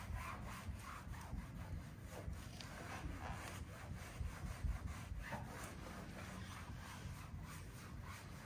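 Hand sanding with coarse 60 grit sandpaper makes a continuous rhythmic scratchy rubbing, quiet and close, with rapid back-and-forth strokes for about eight seconds and no talking.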